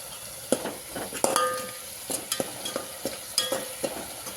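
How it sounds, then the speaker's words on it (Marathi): Masala of garlic, onion and turmeric frying in oil in a pan for a mutton curry, with a soft steady sizzle broken by sharp scraping stirs and spoon clinks against the pan at an irregular rhythm. "बघा मसाला आपला कसा हिवायला लागलेला आहे लसूण कांदा आणि थोडेसे हळद टाकून घ्या"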